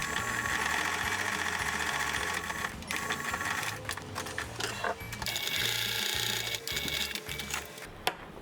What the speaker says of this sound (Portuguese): passar uma costura nesse lado maior aqui da pecinha